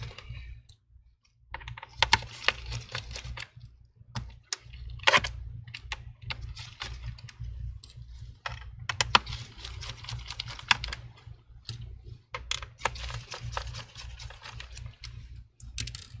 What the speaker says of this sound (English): to remove the tiny little screws here.